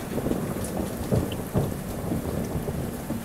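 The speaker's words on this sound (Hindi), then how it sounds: "क्योंकि बारिश हो रही है भाई" Heavy rain pours steadily with low thunder rumbling underneath, heard from aboard a moving express train; a dense, continuous wash of sound with no talking.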